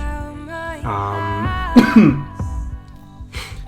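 A person recovering from a sore throat coughs and clears their throat, a few harsh rough bursts up close, with some voiced, sung-like sounds before them.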